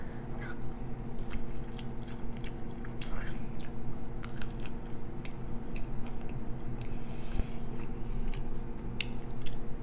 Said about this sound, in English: let me try to eat some more fries, but it's just too salty for me